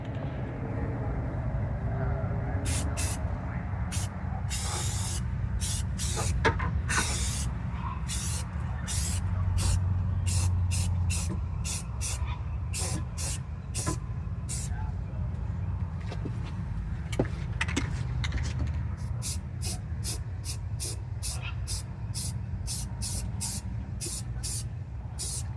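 Spray primer goes onto a car fender panel in a light coat, a series of hissing bursts, some short and some sustained, close and fairly loud over a low background rumble.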